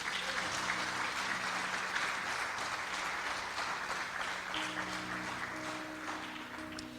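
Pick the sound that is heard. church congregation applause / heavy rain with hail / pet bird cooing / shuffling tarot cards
church congregation applause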